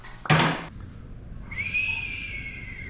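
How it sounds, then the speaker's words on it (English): A person whistles poorly, a short breathy burst followed by a single sustained, slightly wavering tone, close by, over a kitchen or beach cooking scene with light background noise. "Wow, that was a really bad whistle."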